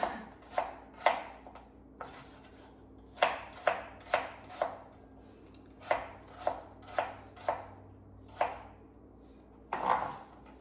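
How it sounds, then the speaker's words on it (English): Knife chopping the last apple on a cutting board for an apple crisp, a dozen or so sharp, evenly spaced chops in quick bursts, close and clear with no talking. "I forgot I had one apple left, so I'm just gonna chop that real quick."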